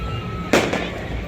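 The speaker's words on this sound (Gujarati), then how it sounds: "એક બાજુ ફટાકડા ફૂટે છે," A firecracker bursts once with a sharp, loud crack during a festive, Diwali-like celebration, followed by a fainter pop, over a steady background hum.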